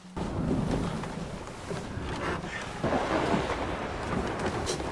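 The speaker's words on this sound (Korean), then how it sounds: "엎친 데 덮친 격우 그들의 앞에 거대한 폭풍이 다가오기 시작합니다" A storm rolls in at sea around a leaking, sinking boat: a dense, continuous roar of wind and rain with deep thunder-like rumbles swelling, loud and unbroken.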